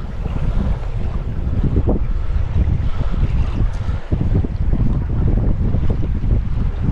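Strong wind blowing across open water while fishing from a boat, with the wind running against the current: a loud, steady, gusty roar buffeting the microphone for the whole stretch, with no voices.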